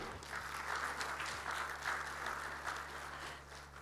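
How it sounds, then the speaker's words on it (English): Sustained audience applause at a technology and innovation international conference, a steady wash of clapping from a sizable crowd with a low mains hum underneath. "let's give a big round of applause to everyone."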